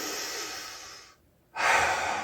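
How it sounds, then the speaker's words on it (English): A single slow, deep inhalation through the mouth during a golf posture drill, a steady airy hiss that breaks off for a brief pause before a louder, fuller breath continues close to the mic. "take a deep breath in"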